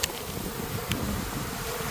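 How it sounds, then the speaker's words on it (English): Invasive bees swarming around a comb, a dense continuous buzzing drone with a few sharper passes close by, steady and fairly loud throughout with no talking. "they're actually invasive to planet Earth, these bees"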